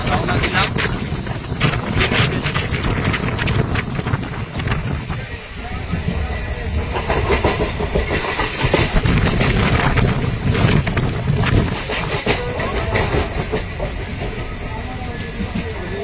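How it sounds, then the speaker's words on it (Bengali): Train running after leaving Howrah bound for Delhi, a steady broadband rumble and rattle with wind buffeting, continuous and fairly loud throughout, with voices faintly present. "এখন হাওড়া থেকে আমাদের ট্রেন ছাড়ার পর আমরা এখন দিল্লির উদ্দেশ্যে রওনা দিলাম।"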